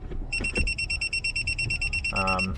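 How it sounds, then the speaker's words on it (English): A reverse warning beeper in a 2012-2016 Mitsubishi Triton cab, mounted up near the windscreen, sounds rapid, evenly spaced high-pitched beeps close by, continuing steadily while a person talks underneath. "the reverse beeper is on this thing up the top here under the windscreen"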